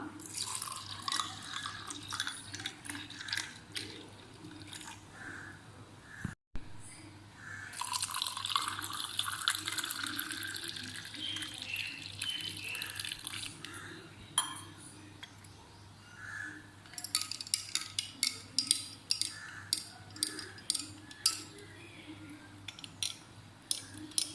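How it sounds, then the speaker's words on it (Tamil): Beetroot juice is poured into a glass over ice cubes, making a faint, trickling, dripping liquid sound that stops briefly and then continues in light splashes and drips, heard quietly and close. "இப்போ ஜூஸை ஊற்றிடலாம்"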